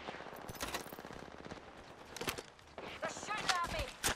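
Rapid bursts of gunfire ring out in the video game Apex Legends, quiet and somewhat distant amid footsteps and game effects, with faint voices in the mix.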